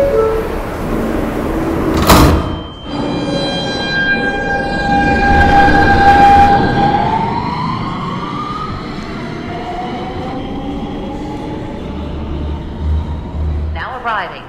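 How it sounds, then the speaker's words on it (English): Roblox simulation of a Queens-bound New York subway E train at 42nd Street–Port Authority station, with loud rumbling wheels, rising electric motor whine, a sharp horn-like burst and door sounds, under station announcements. "This is a Queens-bound E train."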